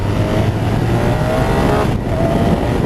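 A 2019 BMW R1250RS motorcycle pulls hard in second gear, its engine roaring loudly and steadily close by with a dense, continuous rising drone that never lets up.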